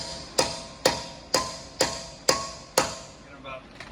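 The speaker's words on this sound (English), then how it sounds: "Just hammer them on." Six sharp metallic hammer strikes driving 12-point 5/8 impact sockets onto locked wheel-lock lug nuts, evenly spaced about half a second apart, close and loud with ringing decay, followed by a faint clink.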